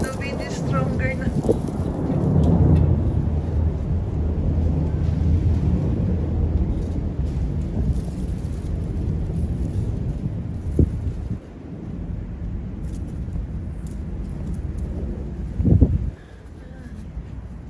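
Strong wind buffets the microphone outdoors during snowfall, a heavy rumbling gust that eases off partway through, while a voice talks over it.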